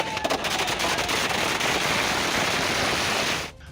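Fireworks set off by party workers in the middle of a street crackle and hiss in a dense, continuous barrage that stays loud throughout, then cuts off abruptly at the end.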